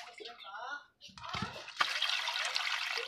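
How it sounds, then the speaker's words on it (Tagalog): Tap water runs steadily over squeezed bamboo shoots being washed for cooking, a close, continuous splashing rush that starts after a brief stretch of clattering and other sounds. "Hugasan natin ng tubig."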